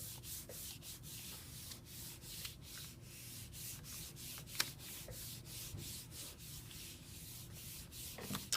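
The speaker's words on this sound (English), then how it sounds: "Instead of rolling something, I'm just going to press my hand. And I'm rubbing very hard." A hand rubbing hard over paper pressed onto a gelli printing plate makes quiet, close, steady swishing strokes in a regular back-and-forth rhythm.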